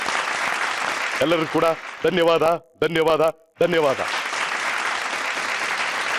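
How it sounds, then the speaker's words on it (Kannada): Loud applause bursts from a studio audience on a Kannada TV game show, swelling at the start and again at the end, with someone speaking between the rounds of clapping. "ಅವರಿಗೆ ಒಂದು ಜೋರಾದ ಚಪ್ಪಾಳೆ ಕ್ರೇಜಿ ಕಪ್ಪಲ್ಲಿಂದ"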